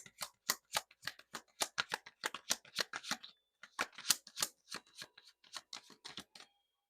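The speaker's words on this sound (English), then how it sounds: "I shuffled through those cards and it still came out" A deck of tarot cards being shuffled by hand, a quick run of crisp papery snaps and riffles in an uneven rhythm, close and quiet, with a short pause midway and no talk.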